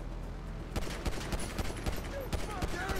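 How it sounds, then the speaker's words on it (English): GTA Online gunfire during a co-op mission: rapid shots crack in a dense, uneven burst, steady and close, with a gun firing repeatedly over a constant low background hum. "Getting shot at."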